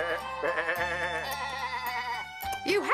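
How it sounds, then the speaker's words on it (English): Sheep bleat repeatedly with wavering, quavering calls, one after another, fairly close, over a low steady background hum. "It's the sheep that have escaped as well"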